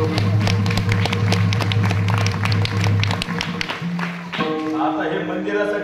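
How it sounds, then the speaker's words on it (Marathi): A crowd at a Marathi temple kirtan gathering claps in dense, sustained applause, with a voice speaking over it toward the end. "आता हे मंदिरासाठी टाळ्या वाजवले ना"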